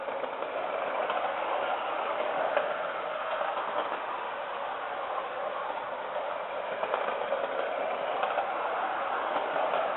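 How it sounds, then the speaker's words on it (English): A Hornby D16 model tender locomotive runs around tight 12 3/4 inch radius 00 gauge curves with a steady, faint, continuous motor whir and rolling rattle, with no talking. "Even the Hornby D16 tender locomotive can cope with 12 3/4 inch radius curves."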